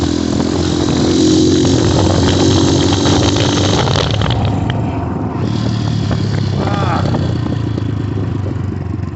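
An Xmotos 250cc motorcycle ridden on half choke, its engine loud and close with a continuous buzzing drone that drops and eases partway through.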